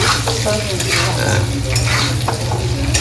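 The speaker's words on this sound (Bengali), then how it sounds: "আর একটু হবে নাকি ভাজা আলু? হ্যাঁ, আমি আর 2 মিনিটের মতন রাখবো।" Potatoes frying in hot oil and being stirred in a pan, a loud, continuous close-up sizzle broken by repeated scraping and clattering stirs.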